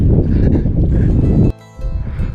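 Strong wind gusts buffet the microphone at a hilltop viewpoint overlooking the sea, loud, rough and continuous with a brief lull partway through.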